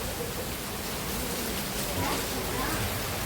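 Heavy summer rain pours steadily in Bangalore, a dense, even hiss of falling water that stays constant from start to end with no voices.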